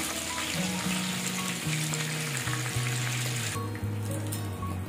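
Pieces frying in oil for an Andhra drumstick and dried fish curry, a broad steady sizzle under a droning tonal hum, which cuts out near the end, close, no voices.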